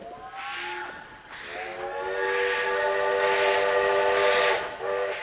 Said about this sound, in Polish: O, to pociąg.